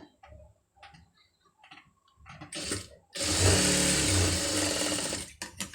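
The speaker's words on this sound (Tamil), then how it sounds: "இதை மடித்து ஒரு தையல் வந்து போட்டுருங்க" Sewing machine stitching a folded sleeve: soft handling clicks and taps first, then a loud, close, steady whirring run of stitches for about two seconds before it stops.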